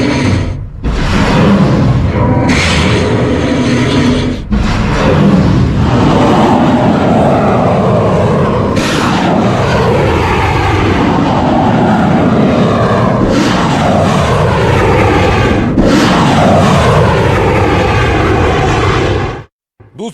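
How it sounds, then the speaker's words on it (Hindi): A loud propeller-driven Shahed drone drones overhead with a buzzing engine whine, punctuated by several sharp booms as it explodes, ending abruptly. "शाहिद ड्रोन भेजता है, इजराइल में जाकर धमाका किया।"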